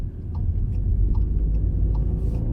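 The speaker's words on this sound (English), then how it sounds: "putting the GTI in drive, we're going to go for a little ride" A 2019 Volkswagen GTI Rabbit Edition pulls away and drives in normal mode, its engine giving a steady, loud low rumble from inside the cabin, with faint light ticking throughout.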